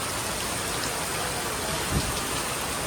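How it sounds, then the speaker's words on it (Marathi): Heavy rain pours steadily at a hilltop temple in Kolhapur, a dense, even roar of drops on surfaces with one faint thump near the end, close and unbroken, no voices. "पाऊस खूपच आहे"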